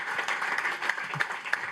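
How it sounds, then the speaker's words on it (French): A French audience gives a short round of applause at a youth community event about AI projects, with claps blending into a steady, moderately loud wash and a few sharper claps standing out. "s'il vous plaît, on les applaudit"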